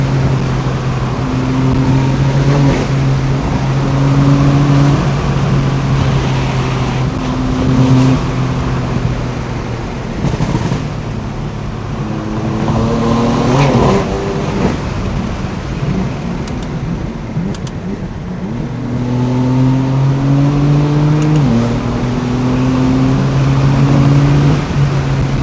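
A 600hp BMW F82 M4 accelerates hard, its engine droning loudly and climbing in pitch through repeated surges, with a strong pull near the end, heard up close from inside the car.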